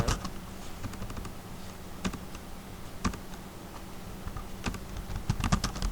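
Keys clatter on a computer keyboard in a run of irregular, close taps with scattered louder strokes, steady over a faint background hum and with no voices.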